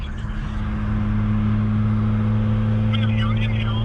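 A BMW E30 running without a catalytic converter, a steady low droning exhaust heard from inside the moving car, loud and continuous, with voices talking over it.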